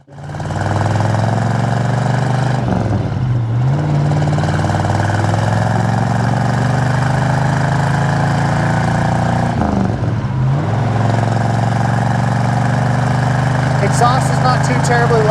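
A 1972 Chevrolet Chevelle with a 454 LS5 V8, four-speed and stock-style muffler drones loudly and steadily from inside the cabin, with two brief dips as it shifts.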